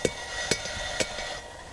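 A hammer strikes forged metal to flatten it, three sharp evenly spaced taps about half a second apart, fairly close, with a faint ringing tail after each blow.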